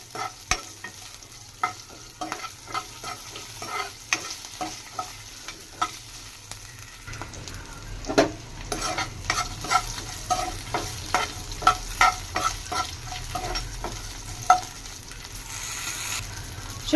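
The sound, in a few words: green chilies frying in a kadai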